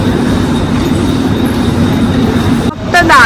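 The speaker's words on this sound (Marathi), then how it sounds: "मी दादर स्टेशनला उतरली आहे. सो आता सेंट्रल लाईनवरून मी वेस्टर्न लाईनला जाते" Trains rumble through Dadar railway station in Mumbai, a loud, continuous roar of rolling rail cars that drowns out the surrounding crowd. Near the end there is a brief metallic squeal.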